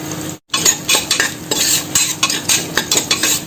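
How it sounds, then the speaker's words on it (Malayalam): Coconut pieces frying in coconut oil and ghee, with a soft sizzle under repeated close scraping and clinking of a spoon stirring in the pan. "കുറച്ചൊന്ന് മൂത്ത് വന്ന് തുടങ്ങിയിട്ടുണ്ട്."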